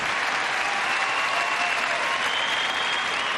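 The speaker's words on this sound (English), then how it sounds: "gets a big round of applause." A crowd at a women's team gymnastics competition at the 2006 Commonwealth Games gives a loud, sustained round of applause. The clapping is a dense, even wash of sound that lasts the whole clip.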